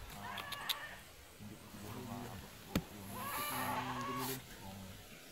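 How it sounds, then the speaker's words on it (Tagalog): Bleating from a goat somewhere close by, several short harmonic calls rising over a steady low background murmur, with a sharp knock partway through. "Parang may kambing niya sa baba doon."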